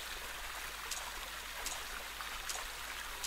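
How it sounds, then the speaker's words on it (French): Steady rushing water from a waterfall in the horror video game Rake, a constant broadband wash with small splashy accents, heard alone without talk. "Il y a encore une cascade, un point d'eau."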